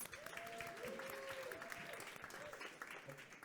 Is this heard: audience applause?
yes